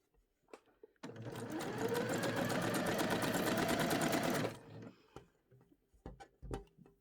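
A sewing machine runs steadily for about three and a half seconds, gathering an organza skirt layer, with a rapid, even needle rhythm that stops abruptly and is followed by a few faint handling clicks and rustles.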